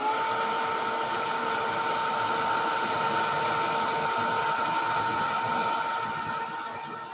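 A heat tool warms Mermaid Teal paint with a steady, even whirring blow that holds level for several seconds before trailing off slightly at the end, no talking.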